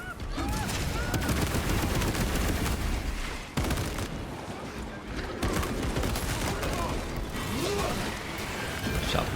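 Gunfire in the video game Space Marine 2 forms a dense, continuous barrage of shots mixed with mechanical clanks, loud throughout, with brief pauses, while voices are faintly present.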